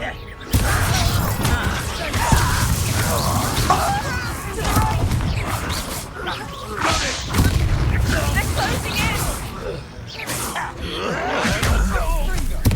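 Explosive blasts from the Confringo fire spell during a Hogwarts Legacy battle, loud booms and crashes in a dense, continuous fight mix with gasps and voices throughout.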